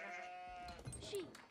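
Sheep in the strategy game Age of Empires IV give a brief, quavering bleat, close and moderately loud, followed by a soft low call over a quiet game background.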